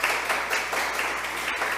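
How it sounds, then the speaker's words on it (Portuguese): Indoor audience applause at a ceremony honouring Black Latin American and Caribbean women, a brief, even burst of clapping from many people. "Salva de palmas."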